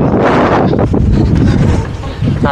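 Strong wind sweeps across the Ramakkalmedu hilltop on the Kerala–Tamil Nadu border, a loud, continuous roar buffeting the microphone with gusty rumble and no pauses.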